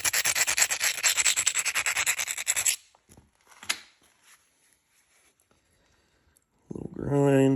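Rough rasping strokes of a stone grinding the edge of a flint arrowhead during knapping, a rapid close series of scrapes for a few seconds, then quiet with faint taps before a voice enters at the end.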